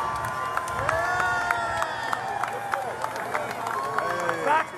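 A parade crowd celebrating a 2024 national basketball championship cheers and shouts continuously, with scattered whoops and claps and some chatter among the throng.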